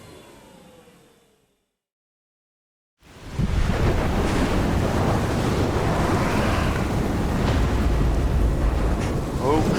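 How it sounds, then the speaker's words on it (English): Wind roars across Lake Knot in the video game Death Stranding, rising suddenly after a short silence into a loud, steady gusting rush that fills the rest of the scene. "it's windy"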